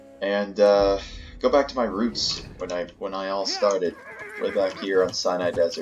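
Horses neigh in Battlefield 1 cavalry combat on the Sinai Desert map, loud whinnies mixed with hoof clops while someone talks over the game throughout.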